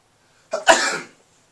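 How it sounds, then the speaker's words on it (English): A single close, sharp sneeze with a quick intake burst followed by a breathy release, then silence. "I think that was my first sneeze on my videos"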